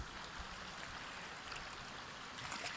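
A river stream rushes in a steady broadband wash of flowing water, fairly quiet and continuous, with no voices over it.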